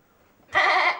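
A person imitates a sheep with one nasal bleat, loud and close, rising abruptly out of near silence and holding for about half a second.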